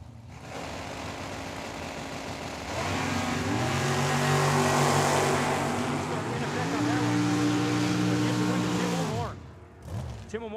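Drag race cars at Tucson Dragway, a Camaro among them, with loud engines revving and holding high, rising in pitch before cutting off abruptly near the end.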